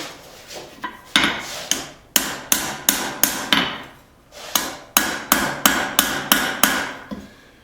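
Hammer blows forging a steel fillet knife with an integral bolster, about a dozen sharp ringing strikes in two quick rhythmic bursts separated by a pause, close and loud with no talking.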